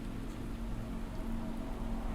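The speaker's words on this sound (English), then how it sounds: "For 5 years, the black rain poured without end." Steady black rain falls without pause in the DIVE OR DIE video game demo, a dense, even hiss of drops at a constant level with no voices over it.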